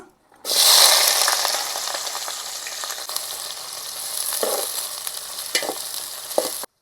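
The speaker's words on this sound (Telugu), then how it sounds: "ఒక నాలుగు స్పూన్ల దాకా ఆయిల్ అయితే పోసుకుంటానా ఇప్పుడు ఉల్లిగడ్డలు మిరపలు వేస్తానా" Onions and chillies hit about four spoons of hot oil for a tamarind chicken curry, bursting into a loud sizzle that settles into steady frying with occasional crackles and stirring scrapes.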